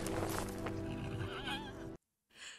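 A horse in The Lord of the Rings: The Two Towers gives a loud, wavering neigh over swelling film score, then the sound cuts out briefly before a fainter snort.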